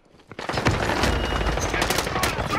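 Video game gunfire erupts suddenly after a quiet moment, rapid automatic bursts and shots rattling loudly and continuously, with voices mixed in.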